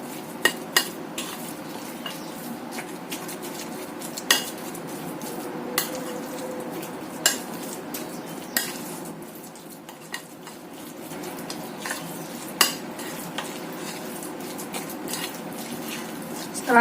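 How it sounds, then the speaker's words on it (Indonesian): A spoon stirs a siomay mixture of grated carrot, corn and a freshly added egg in a bowl, making continuous wet churning with frequent sharp clicks of utensil against the bowl, steady and close, with no talking. "Kita tambahkan 1 butir telur. Kita aduk lagi sampai tercampur rata."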